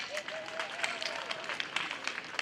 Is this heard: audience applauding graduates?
yes